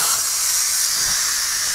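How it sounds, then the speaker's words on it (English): A pressure cooker holding pasta vents its pressure in a loud, steady hiss of escaping steam that runs unbroken from start to finish. "So let's release the pressure now and enjoy our meal."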